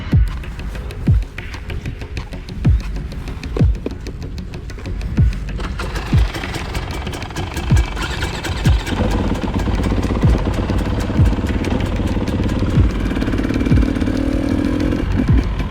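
A 250cc four-stroke dirt bike engine idles with slow, regular thumps, then revs up into a louder, busier throbbing drone, close by.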